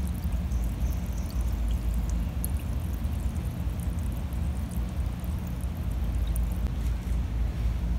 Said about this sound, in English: You can really see that one bubbling.